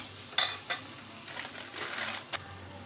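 Dried fenugreek leaves fry in a pan for a bottle gourd kootu, making a soft, quiet sizzle with a few light clinks and scrapes of a utensil near the start.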